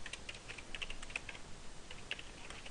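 Someone types on a computer keyboard, a quick irregular run of light close-up key clicks with short pauses between bursts and no talking.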